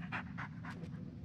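A dog named Bullet pants in short, quick breaths, close and quiet, during a tense walk through a dark forest in the game Blair Witch, with no voices over it.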